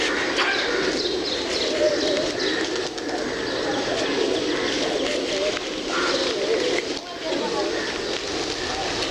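Pigeons coo amid the steady outdoor bustle of Basantapur square in Kathmandu, a soft continuous murmur of birds under constant ambient crowd and street noise, fairly close and unbroken throughout.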